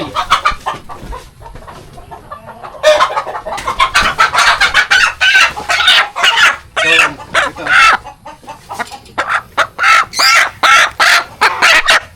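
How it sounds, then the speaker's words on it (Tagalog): Chickens on a farm cluck loudly and rapidly in a busy burst of repeated calls, close by, with a brief quieter stretch at the start. "Anong manok yan, kuya?"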